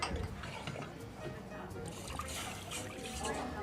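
Water poured into a blueberry mixture thickened with cornstarch: a soft liquid trickle and splash with a voice talking over it.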